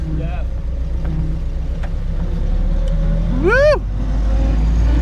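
A 1946 Willys CJ2A Jeep engine idles and then revs as it pulls away, a steady low rumble that rises near the end, with a short excited shout from a person over the motor.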